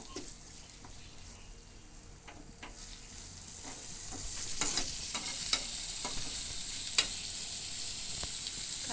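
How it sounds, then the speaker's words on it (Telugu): Ginger-garlic paste with turmeric and salt fries in a pan for chicken curry, a soft hiss swelling into a louder sizzle with repeated spatula scrapes and taps, heard close with no talk. "ఇప్పుడు మంచిగా కొంచెం సేపు వేగనిద్దాము."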